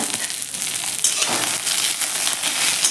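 Eggplant pieces cooking in a pan over a low gas flame give off a steady, soft sizzle and crackle, close and continuous, with light stirring noises and no voices.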